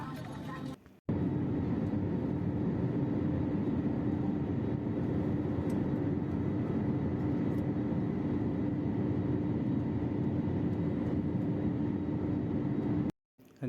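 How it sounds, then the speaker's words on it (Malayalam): Inside a passenger airliner cabin, jet engines roar in a steady, loud, unbroken drone with a low steady hum for about twelve seconds, starting and ending abruptly. "ഏതാനും നിമിഷങ്ങൾക്കും ഫ്ലൈറ്റ് എടുക്കും"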